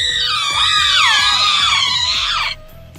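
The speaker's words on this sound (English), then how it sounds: "A cacophony of shrieks erupts behind us." Creature shrieks from the video game How To Date A Magical Girl, a loud, dense cacophony of overlapping wails and screeches lasting a few seconds before cutting off abruptly.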